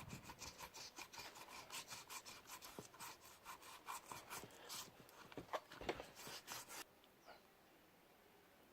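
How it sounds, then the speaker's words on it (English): Excess glue is scrubbed off handmade leather slide slippers with quick, rhythmic back-and-forth rubbing strokes, soft and close, stopping before the end, with no speech. "Then you use it to rub off all the excess gums that have stained it"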